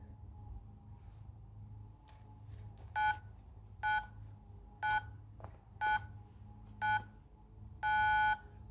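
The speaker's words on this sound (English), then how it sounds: "Start the timer and we'll get going." Electronic workout interval timer beeping at the start of a full-body circuit, a series of short evenly spaced tones about once a second ending in a longer beep, over a quiet room hum with no talk.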